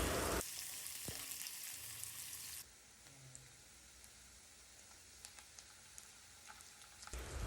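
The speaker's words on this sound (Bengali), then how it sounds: "এইখানে পেঁয়াজটা আমি লাল লাল করে ভাজবো না পেঁয়াজটা জাস্ট নরম হয়ে আসবে" Onions frying in a pan until soft give a steady, even sizzle that fills the whole stretch, loud at first and then settling slightly quieter, with a few faint pops and no voices.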